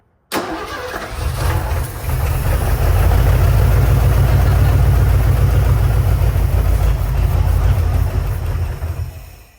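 Ford F150 brick-nose truck engine, converted from EFI to a carburetor, catches and runs at a loud, steady, rumbling idle close by for about nine seconds, then stops abruptly.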